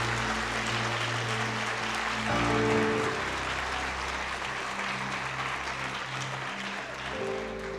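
A church congregation applauding at a Christmas service, dense, steady clapping from a large crowd that carries on for several seconds, with faint hums and tones beneath.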